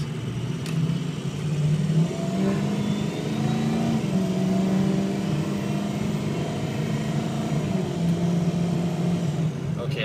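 A 2004 Ford F250 diesel truck engine idles and revs nearby, a loud, steady rumble with rising tones, while someone speaks over it.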